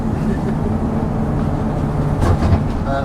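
A museum trolleybus runs quietly, giving a steady low electric motor hum and road rumble throughout, with a brief bump or rattle near the end.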